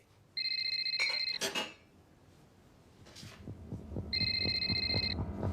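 A telephone rings in two bursts of electronic trilling, the second returning after a pause, with low rhythmic throbbing and faint rustling rising underneath between the rings.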